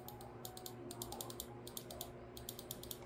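Quick crisp mouse clicks from Kailh GM 8.0 switches on a Dareu A950 Pro mouse, sounding in short bursts of several rapid tactile clicks separated by brief pauses, fairly faint and close.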